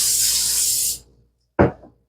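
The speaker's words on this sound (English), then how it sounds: "We're going to give it a quick spray." A quick burst of cooking spray hisses onto a heated doughnut maker for about a second, followed by a short, soft clunk.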